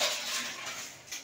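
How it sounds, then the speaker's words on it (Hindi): Metal puja utensils clatter and clink while being washed for Diwali, a steady close scraping and rattling of pots and dishes over running water, with no talk. "इधर पूजा के बर्तन भी धो रहे हैं"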